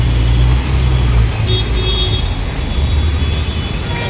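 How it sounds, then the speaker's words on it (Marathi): Road traffic stands in a full jam during Ganpati immersion in Ghatkopar, with a dense, loud rumble of idling cars, buses and trucks close by and faint horn toots. "फुल ट्रॅफिक जाम आहे बघा."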